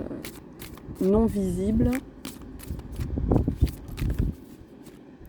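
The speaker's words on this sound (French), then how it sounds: "on va essayer de sortir 3 cartes" Tarot cards being drawn and slid from a deck, with soft papery shuffling and flicking close by, partly under a speaking voice.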